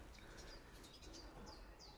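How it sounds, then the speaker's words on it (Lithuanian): Birds call in a coastal nature reserve near Klaipėda, Lithuania, with faint thin chirps and short whistles at a distance over steady wind-like background noise, no voices. "Čia dar daugiau paukščių."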